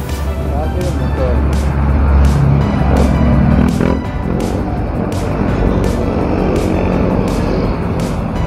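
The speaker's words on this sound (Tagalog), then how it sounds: "Grabe yung motor." A motorcycle rides by amid steady loud road and engine rumble, with voices speaking over the noise throughout.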